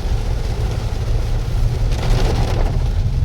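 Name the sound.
rain falling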